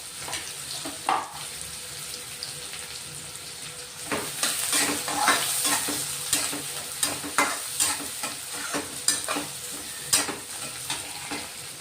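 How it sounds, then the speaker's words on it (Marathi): Finely chopped onion sautéing in a pan for a mixed vegetable dish, a steady sizzle with intermittent stirring scrapes and clinks, close and alone without speech. "एक कांदा घेतलाय बारीक चिरलेला, तोही आपण परतून घेऊ आता"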